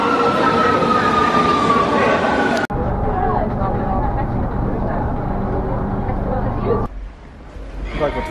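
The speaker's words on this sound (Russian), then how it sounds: "Так, вот мы едем в метро" Rome metro train in motion, a steady loud rumble and rail noise with squeals, a sharp break partway through and quieter stretch near the end, with people talking over it.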